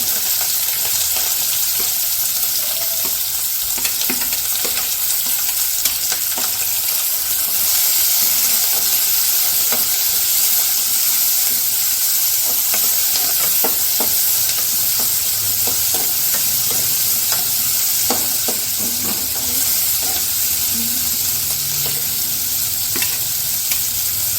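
Onion, green chilli and curry leaves sizzle in hot oil for a tempering, a steady crackling hiss that runs unbroken throughout with faint stirring clicks and no voices.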